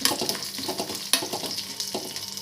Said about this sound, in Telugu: కొంచెం ధనియాలు, కొంచెం జీలకర్ర, ఇవి దోరగా వేయించుకోవాలి ఫ్రెండ్స్